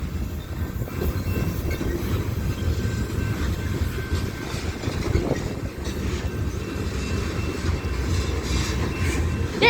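A BNSF freight train with hopper cars rolls past close by, a steady loud rumble of wheels and cars with rail clatter throughout, no voices.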